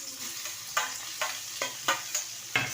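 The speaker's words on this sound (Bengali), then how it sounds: "এবার ভালো করে একটু ভেজে নেব।" Chopped onion and tomato fry with five-spice in a pan, a steady hiss broken by about six distinct scraping stirs of a spatula at a regular pace.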